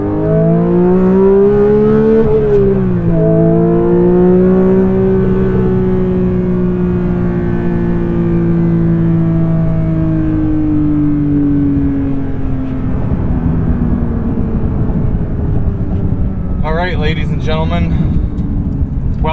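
A 2022 Porsche 911 GT3 engine roars loud and close, its pitch swooping up and down as it revs and then easing into a long, steadily falling drone, with a brief voice near the end.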